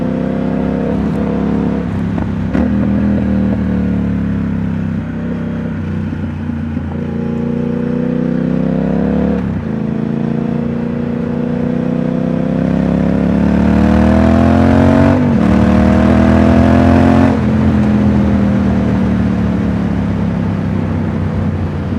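A Triumph Speed Twin motorcycle fitted with British Customs exhaust tips rides by, its twin-cylinder engine droning loudly and steadily, rising and falling through gear changes and throttle swells.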